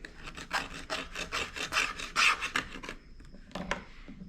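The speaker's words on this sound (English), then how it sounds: "with the scraper, we're just going to start scraping" A hand scraper rasps paint off the back of an upside-down mirror in a quick series of short, close scraping strokes, loud and uneven, with no voices.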